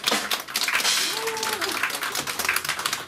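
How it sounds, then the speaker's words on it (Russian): Diners in a restaurant applaud at an Odessa City Day celebration, dense clapping from a crowd with a brief voice rising through the middle, fairly loud and continuous. "Владимир Фокс, аплодисменты"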